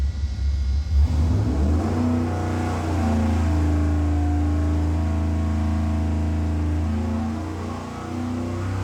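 A small-block Chevy V8 with EFI revs hard on a dyno, climbing from a low idle into a loud, steady high-rpm roar that is held for several seconds, close and with no talking.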